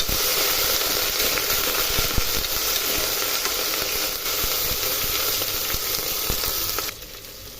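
Onions and tomato paste sizzling and frying in a pan for soya biryani, a continuous dense hiss with occasional spatters and stirring clicks, close and loud, then dropping off abruptly near the end.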